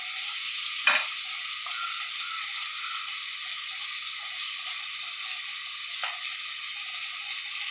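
Salted potato filling for aloo paratha fries in a pan with a steady, close sizzle, broken by a couple of brief spoon scrapes as it is stirred.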